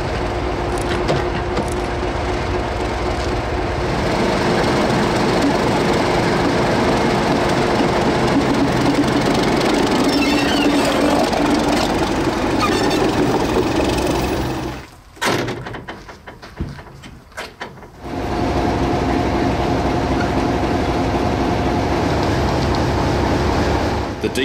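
Diesel locomotive DE 1429 on the Weka Pass Railway running around its train at the terminus, a steady loud engine drone with a brief quiet break partway through before the rumble resumes.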